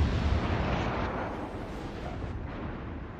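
Heavy warship guns boom in a naval combat game clan battle, a deep rumbling blast at the start that decays into a long, rolling low-frequency roar with no voices.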